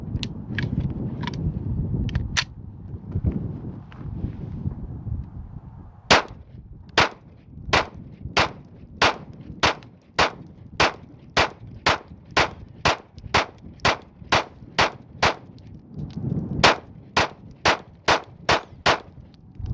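A Glock 45 pistol with a 50-round drum magazine fires a long run of evenly spaced single shots, loud and sharp, after a stretch of low rumbling background noise, with no pauses or jams.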